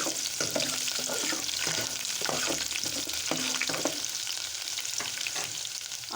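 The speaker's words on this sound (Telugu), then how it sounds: "కొంచెం ఫ్రై అయిన తర్వాత ఆనియన్, సన్నగా కట్ చేసుకున్న ఆనియన్ వేసుకుందాం." Finely chopped onions fry and get stirred in a pan for moong dal, a steady close sizzle with repeated scraping strokes throughout and no talking.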